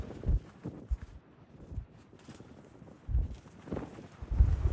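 Gusty wind buffets the microphone at a wild camp on the fell at Haystacks, coming as irregular low rumbling blasts with quieter rustling lulls between them.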